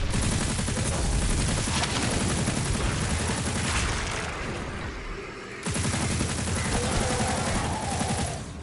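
Sustained rapid gunfire from a gun in Destiny, dense and loud throughout with a brief dip mid-clip before resuming, no talk over it.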